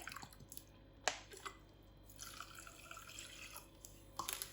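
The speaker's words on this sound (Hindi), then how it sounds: "और 1 ही कप हम इसमें पानी का ऐड कर देंगे।" A cup of water is poured into a cooking pot holding jaggery, producing quiet splashing and trickling bursts with a few drips, close and soft against a low room hum.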